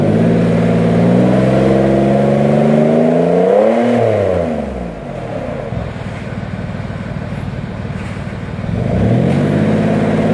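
Range Rover Sport 2.7 diesel with a straight pipe exhaust, loud and close, revving up and down in two long sweeps with a heavy rumbling drone between them.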